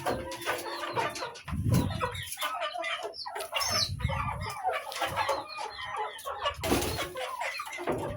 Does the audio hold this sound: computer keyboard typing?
no